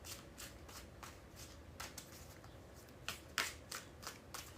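Tarot cards are riffled and shuffled close up in quick repeated bursts, crisp papery flutters with a couple of sharper louder snaps toward the end, no talking.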